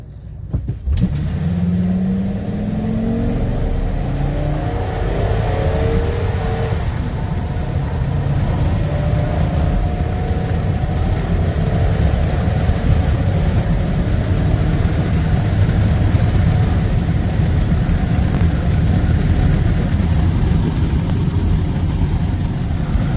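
A 21-year-old 2001 Ford Excursion truck accelerates hard through a Dragy timed run, its engine roaring loud and close, climbing in pitch early and then holding a heavy, sustained drone with no talking.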